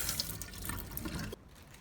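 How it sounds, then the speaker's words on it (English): Tap water runs steadily over a pineapple being rinsed in a sink, a close, continuous splashing rush that cuts off abruptly near the end, leaving a quiet room. "Then rinse it again with clean water and let it drain."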